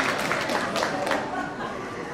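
A crowd applauds at the Rebel Salute launch event, clapping moderately loud and steady before gradually thinning out, with faint chatter mixed in.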